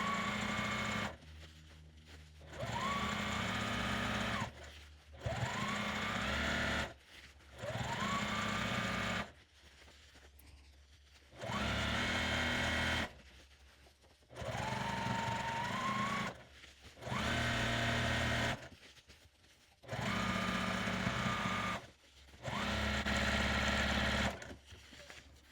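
A sewing machine stitches around the edge of a fabric cover for a 9x13 glass pan, running in about eight bursts of a few seconds each with brief quiet pauses between, close and steady.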